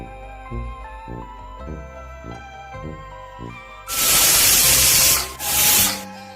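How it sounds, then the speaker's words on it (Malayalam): Music plays, then a loud hissing steam burst from a pressure cooker whistle cuts in, pauses briefly, and blasts again. "കുക്കർ ഒന്ന് അടച്ചെടുത്ത് വിസിൽ വരിക്കുക"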